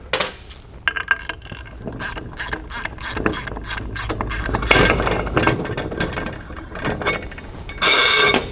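A ratchet tightens bolts during a DynoJet clutch kit install on a Polaris RZR, giving rapid, close clicking bursts of the pawl with brief pauses and some metallic clinks between strokes.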